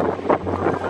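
Gusty wind buffets the microphone, producing a rough, low rumble with a brief louder burst partway through.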